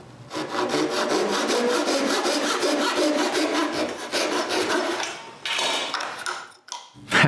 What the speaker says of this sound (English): I begin with the first 45-degree cut.